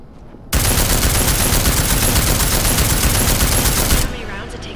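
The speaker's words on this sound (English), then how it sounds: "Nice shooting!" Sustained automatic gunfire in the video game Deus Ex: Mankind Divided, a loud dense burst of rapid shots lasting about three and a half seconds before cutting off abruptly.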